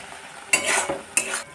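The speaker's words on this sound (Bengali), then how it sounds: "মশলাটা এবার একটু লাল করে আমি ভেজে নেব।" Spice paste with chopped tomato frying in a pan for a fish-and-potato curry, sizzling steadily while a spoon stirs it in two quick scraping strokes, close and clear, with no talking.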